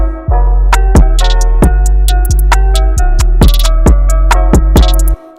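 Hip-hop beat with a deep, sustained 808 bass and a melodic line, sharp percussive hits punctuating it in a steady rhythm, loud and upfront before cutting off abruptly.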